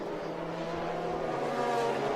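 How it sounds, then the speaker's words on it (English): A 2015 Porsche 991 GT3 Cup race car drives with a steady, loud high-revving engine drone, held close and continuous with no talk. "which is a 2015 Porsche 991 GT3 Cup car"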